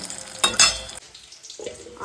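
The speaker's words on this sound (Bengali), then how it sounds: "ভেটকি মাছ ছোটো ছোটো করে ফিলে কেটে নিয়েছে মা ওটাই এই ব্যাটারের মধ্যে ডুবিয়ে ছোটো ছোটো ফিশ ফ্রাই ভাজা হচ্ছে" Battered bhetki fish fillets deep-frying at a fair stall, a brief burst of bubbling oil and clatter, then quieter sizzle with background fair noise.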